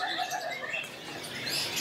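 Bangkok zebra dove (perkutut) among caged birds for sale at a bird shop, giving faint, scattered chirps and short calls close by with no talking.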